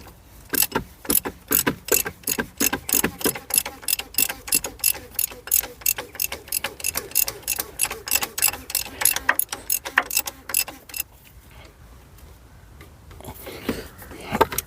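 A socket ratchet wrench turns bolts on a Ford Focus 1.6 diesel, giving a rapid, steady run of sharp clicking strokes, close and loud, which stops near the end, leaving quieter handling noise.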